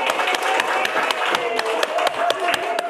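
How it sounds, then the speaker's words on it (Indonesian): A seminar audience at a GIS mapping workshop claps together in a steady patter of many hands. The applause is close and sustained for a few seconds. "Sekali lagi tepuk tangan ya buat kita semua ya"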